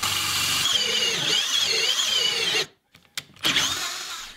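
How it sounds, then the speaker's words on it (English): A power drill whines steadily as it bores a deadbolt hole through a door with a small bit, then stops briefly and starts up again. "I was able to punch out the other side with the little drill bit"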